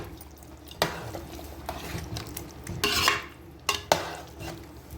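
Ginger paste being stirred into a Kashmiri chicken masala curry in a pan, with a spoon scraping and clinking against the metal in steady strokes, two sharper knocks near the end, and a soft sizzle underneath; no one speaks.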